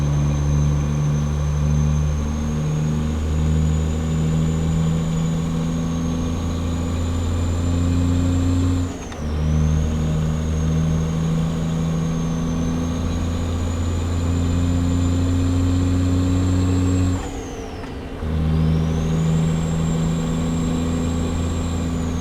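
A Cummins Big Cam logging truck engine with an exhaust sound mod drones loudly and steadily with a deep rumble, dipping briefly twice as gears shift, heard from inside the cab.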